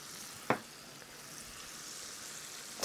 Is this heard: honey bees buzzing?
no